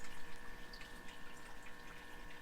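Dechlorinated tap water pours steadily from a bucket into a planted aquarium during a water change, a continuous soft splashing and trickling with no voices.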